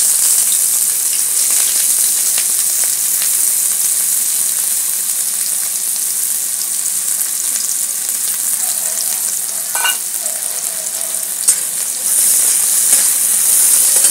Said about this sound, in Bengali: এবারে আমি পেঁয়াজ দিয়ে দিচ্ছি তেলের মধ্যে